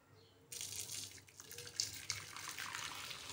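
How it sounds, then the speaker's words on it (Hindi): Boiled hot milk pours into a clay pot, a steady close splashing stream starting abruptly after a brief quiet moment and running on evenly. "उबला हुआ गर्म दूध हम मिट्टी के बर्तन में डाल देंगे।"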